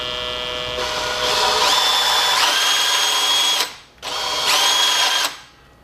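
A power drill whines loudly, its pitch rising as it speeds up, then cuts off briefly before spinning up again and winding down.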